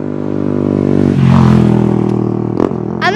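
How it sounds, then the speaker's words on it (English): A motorbike passes on a narrow country lane at Newlands Corner on the North Downs Way near Guildford, Surrey, its steady engine drone swelling up close and fading, with a brief clatter and a voice near the end. "I need to get off the road now because there's a bike"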